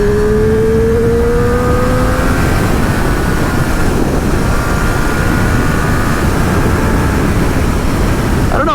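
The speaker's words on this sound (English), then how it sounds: "Now I'm doing 70, but if I get back on the throttle" A 2024 Triumph Street Triple 765 Moto2 Edition motorcycle pulls hard on the throttle at highway speed, heard as a loud, steady engine roar blended with heavy wind buffeting.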